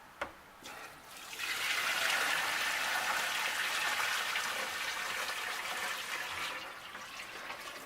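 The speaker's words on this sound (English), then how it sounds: "I'm going to put some clean water in there and let it rinse for 5 minutes" Clean rinse water is poured steadily into an Xtremepower electric portable compact washing machine, a loud, continuous broadband rush that starts after a brief thump and runs for several seconds before easing slightly, with no talking.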